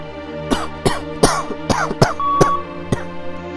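A reader imitates a character's cough with a run of eight or so harsh, voiced coughs in uneven rhythm, close and alone.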